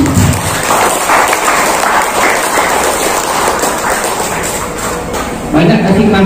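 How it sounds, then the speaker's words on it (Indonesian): Applause from an audience at a provincial religious affairs office guidance session in East Kalimantan, a steady mass of clapping lasting several seconds with voices mixed in. "Tepuk tangan untuk Bu Sinta."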